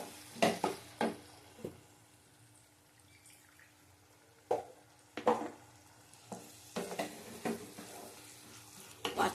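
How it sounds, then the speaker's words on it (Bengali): Katla fish being sautéed in a paste of cashew, raisin, chilli and yogurt, with quiet sizzling under repeated bursts of spoon scraping and clatter in irregular groups. "মাছগুলো নিয়ে এটাকে কষিয়ে নেবো একটু"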